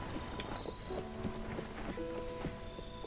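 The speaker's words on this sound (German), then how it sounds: "dieses arme Pferd trägt halt so einen ganzen Wagen" Horse hooves clip-clopping steadily as a horse pulls a heavy wagon in Zelda: Tears of the Kingdom, a continuous rhythmic patter over a wheeled rumble and soft game music tones.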